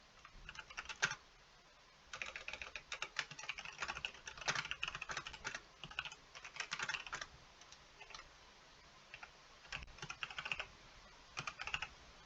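Light tapping on a computer keyboard comes in irregular bursts of keystrokes with short pauses between, close and fairly quiet in an otherwise silent room.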